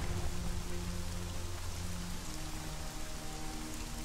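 Freezing rain in the Conan Exiles video game falls as a dense, steady hiss of drops. It runs unbroken throughout, with faint sustained tones humming underneath.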